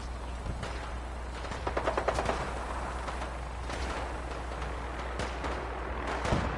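Gunfire in a video game shootout, bursts of rapid automatic shots and scattered single cracks at moderate volume over a low background rumble.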